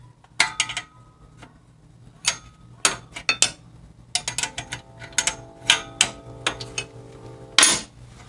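A short wrench works a bolt out of the exhaust on a Harley Shovelhead, giving sharp metallic clinks and ratcheting clicks in irregular bursts, close and fairly loud, with quiet gaps between.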